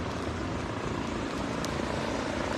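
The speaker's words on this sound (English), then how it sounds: "There's also a police helicopter hovering above the scene." A police helicopter hovers over a shooting scene at a Liverpool cinema, its steady rotor and engine drone filling the air as a constant, loud, unbroken roar.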